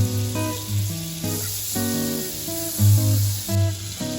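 A cube of butter sizzles in a hot nonstick pan with a soft, continuous hiss heard under louder background music.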